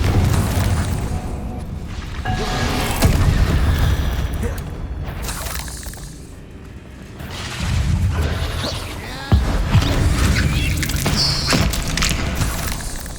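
Spell explosions and crashes from the Confringo spell in the Hogwarts Legacy video game boom loudly in repeated bursts, mixed with rumbling impacts and debris over several seconds.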